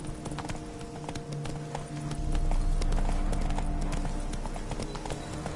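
A horse in The Witcher 3 gallops in a steady rhythm of hoofbeats close by, over a low rumbling game ambience that swells partway through.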